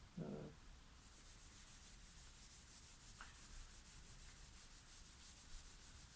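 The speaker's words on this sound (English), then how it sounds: "I'm putting that onto the neck, so it's effectively going to be a wax and oil finish once this is done." Soft, steady rubbing of a wax and oil finish into a wooden guitar neck on a Strat-style partscaster, a quiet continuous friction sound with one light knock near the start.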